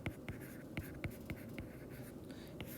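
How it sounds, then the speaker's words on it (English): Pen or pencil marks quick strokes on paper while numbers go into a physics equation on a worksheet, a close scratchy tapping in short irregular bursts, alone without speech. "So I'm going to go ahead and write that in this equation."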